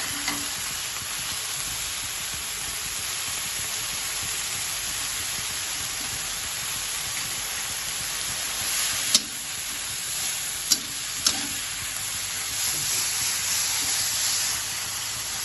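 Midin wild fern stir-fried with oyster sauce and belacan crackles in a constant, fairly quiet sizzle, with a few sharp clicks of a utensil against the pan near the end.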